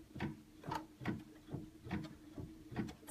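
An embroidery machine stitching a chenille design gives a close, quiet mechanical chatter of evenly spaced ticking thumps, about two per second, with no voices.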